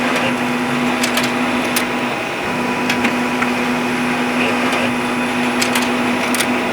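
An Uninet iColor 560 white toner printer runs steadily, a constant mechanical whir with a faint tonal hum, marked by scattered light clicks and ticks as sheets feed through.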